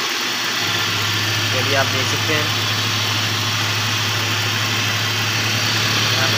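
A Suzuki Liana car engine runs overheated because its cooling fan is not working, giving a steady, close idling hum with a low drone throughout while someone speaks over it.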